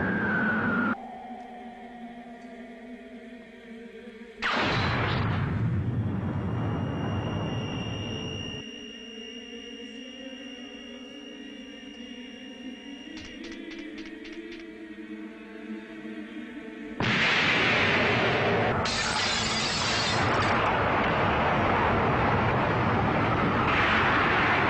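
Bombs released from an aircraft fall and explode in a film scene: a sudden loud broadband blast, then a droning rumble with steady whining tones, and finally a long, heavy roar of explosions.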